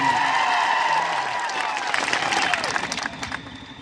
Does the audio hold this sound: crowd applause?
yes